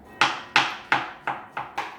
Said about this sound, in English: So I'm just chopping the broccoli up